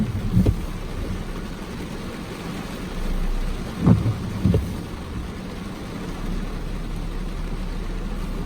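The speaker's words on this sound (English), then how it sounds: "It's raining." Steady rain hisses over a low rumble, with a few dull thunder-like thumps rising out of the wash; no one speaks.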